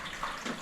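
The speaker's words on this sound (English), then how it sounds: "See where the water is dripping down from." Rainwater trickling and dripping from a vinyl pergola beam with roof panels, a steady, soft watery patter close by with no speech.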